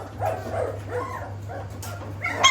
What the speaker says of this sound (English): Playing with the pups.